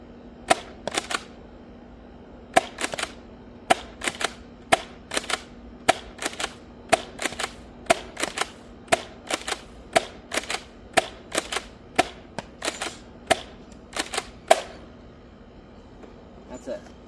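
A Nerf Rival 4Runner pump-action blaster with a 12-round internal magazine is fired repeatedly in a steady rhythm, each sharp crack paired with a quick pump clack, with twelve or more shots in a row, close and clear.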